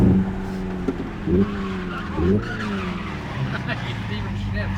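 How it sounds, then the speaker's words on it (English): Simulated engine sound from a 2025 Hyundai Ioniq 5 N electric car bouncing off its rev limiter, with stuttering power cuts and repeated tonal bursts under a steady drone; a voice is heard in the cabin. "If you hit the rev limiter, it does a full power cut."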